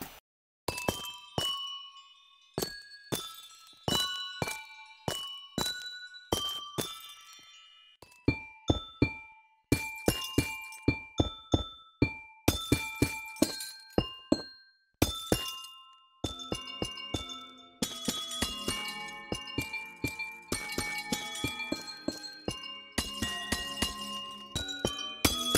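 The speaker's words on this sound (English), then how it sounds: "if I walk around these amethyst clusters, you can kind of hear these chiming sounds, but they're pretty faint" Amethyst clusters in Minecraft's Caves & Cliffs update chime as a player walks among them, a long run of bright, crystalline glassy dings and clinks. Some strikes sound alone and others in quick overlapping bunches, with short silences between groups.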